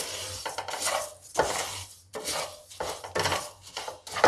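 Spoon stirring ajwain (carom seeds) with fennel in a pan over low heat for ginger pickle, giving repeated scraping and clinking bursts in an irregular rhythm, close and moderately loud.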